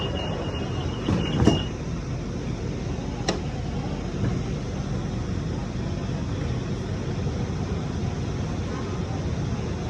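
A Bangkok BTS Green Line skytrain in motion, heard from inside the carriage as a steady, full rumble with a brief metallic squeal and clunk near the start.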